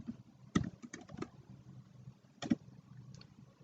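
Quiet clicks of a computer keyboard typing a short Notepad command, a few scattered keystrokes in two brief clusters with pauses between, close and faint.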